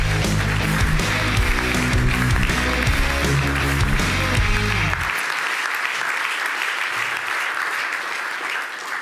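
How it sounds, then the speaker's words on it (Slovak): Big applause at a Slovak hockey awards ceremony for the 2023 player of the year, loud crowd clapping over a booming musical fanfare that cuts out midway, leaving sustained clapping alone. "Dámy a páni, veľký potlesk"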